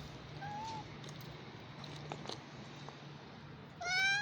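A kitten with a severe mouth infection gives a short meow early on, then a louder, drawn-out meow near the end, over a low steady background hum.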